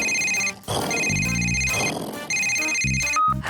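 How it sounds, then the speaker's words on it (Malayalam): Electronic telephone ringtone from a cartoon, a bright repeating tonal melody in several bursts with brief pauses, loud and close with no talk over it. "ഞാൻ ഇപ്പൊ തന്നെ സർവീസ് സ്റ്റേഷനിലേക്ക് ഫോൺ ചെയ്യാം."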